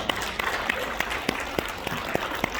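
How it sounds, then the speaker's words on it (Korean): Church congregation applauds during a Korean sermon, a steady wash of hand claps with sharp individual claps popping out over it, moderately loud and close. No voice is heard over it. "박수 치니까"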